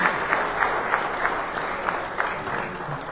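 Guests, among them priests, are welcomed at a seminary lecture in Puebla with warm audience applause, steady clapping from a crowd in a hall, moderately loud and even throughout.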